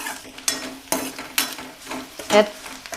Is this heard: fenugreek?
yes